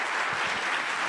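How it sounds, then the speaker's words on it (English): A room full of people applauds a panel at the close of a discussion, a dense, steady wash of clapping that fills the whole second without any voices on top. "let's just give them a round of applause"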